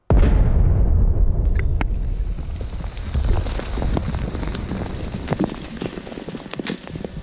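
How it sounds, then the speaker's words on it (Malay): A sudden loud blast from a controlled detonation of an unexploded bomb booms and rolls away, followed by rumbling, scattered falling debris, and gusting wind noise for several seconds. "Letupan memang telah berjaya dijalankan"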